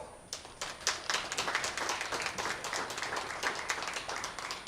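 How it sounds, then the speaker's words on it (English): An audience at a county extension livestream event gives a round of applause, dense overlapping hand claps building quickly and holding steady, moderately close and fairly lively. "You all deserve a round of applause."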